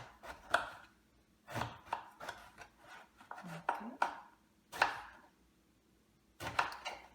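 Knife chopping eggplant on a cutting board, a series of crisp separate knocks that come singly and in short bursts with pauses between them, close and fairly clear, with a voice talking faintly in places.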